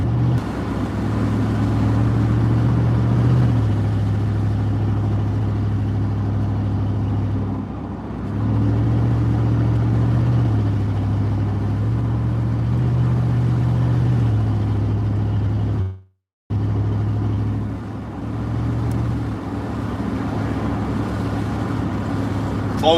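An old pickup truck with nearly 294,000 miles, out on a firewood delivery, drones along at a steady low pitch, with the engine note dipping and rising slightly as it shifts and a brief dropout near the end.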